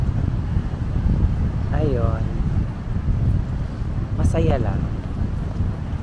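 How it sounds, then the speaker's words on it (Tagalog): Strong wind buffets the microphone at Puraran Beach in Catanduanes, a steady low roar running through the whole stretch, with a voice speaking briefly in the middle and again near the end. "Yan lakas ng hangin."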